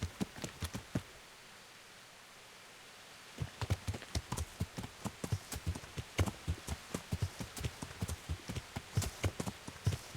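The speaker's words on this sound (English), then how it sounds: "Let's call the horse Google." A horse's hooves in the game Kingdom Come: Deliverance clip-clop in a steady, even rhythm, pausing briefly before resuming at a trotting pace, crisp and close with a faint background hiss.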